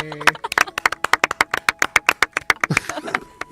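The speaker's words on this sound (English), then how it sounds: "Golf claps all around" Golf claps from a small group around a tabletop game table, a quick string of about twenty close, crisp handclaps in a fairly even rhythm that thins out at the end, with a brief voice near the start.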